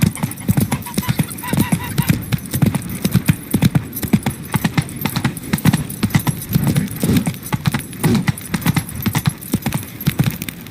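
The horse Roach in The Witcher 3 trots along with brisk, steady clip-clop hoofbeats, loud and close, while a voice speaks over them.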